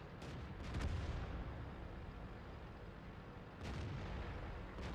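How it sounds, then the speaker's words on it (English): IS-5 tank cannon firing in World of Tanks, low rumbling booms at the start and again near the end over a constant heavy battle drone, muffled rather than sharp. "I'm gonna pop up and shoot the C50."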